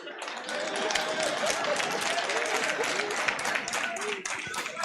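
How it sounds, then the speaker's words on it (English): An audience claps at a fireside talk, steady and fairly dense, with crowd voices and talk mixed in under it. "Now, before you clap too hard,"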